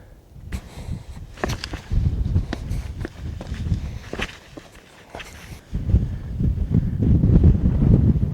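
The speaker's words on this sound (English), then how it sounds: "Pretty windy when you're up on the edge like that." Gusty wind buffets the microphone on a desert cliff edge above the Colorado River valley, uneven rumbling bursts, stronger toward the end, with a few crunching footsteps.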